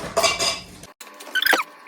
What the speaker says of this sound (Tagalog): Ito may mga plato na mga babasagin tapos kutsara.